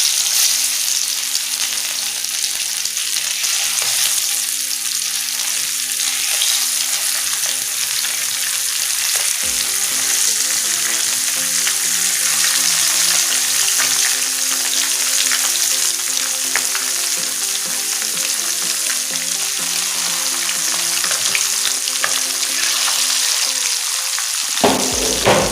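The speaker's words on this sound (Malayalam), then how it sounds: "ഇതിലേക്ക് നമുക്ക് അരപ്പ് തേച്ച് വെച്ചിരിക്കുന്ന മീൻ എടുത്തു വെച്ച് വറുത്തെടുക്കാം" Spice-coated pink perch fish fries in hot oil in a pan, giving a loud, continuous sizzle and crackle up close that holds steady throughout with no talk.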